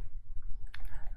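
A computer mouse clicking while working in Photoshop, a single crisp click near the end of a short, quiet stretch with low background hum.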